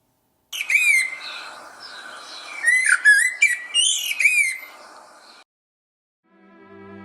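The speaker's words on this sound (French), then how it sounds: "l'aubade du merle" Blackbird song: a run of fluting, whistled phrases with chirps and squawk-like notes, fairly close and clear, then a brief pause before faint tonal sounds return at the end.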